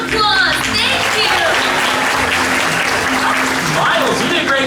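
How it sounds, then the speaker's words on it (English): An audience at a bird show in Disney's Animal Kingdom gives loud, continuous applause. Chirpy bird calls and a voice cut through the steady clapping. "let's give our trees a round of applause"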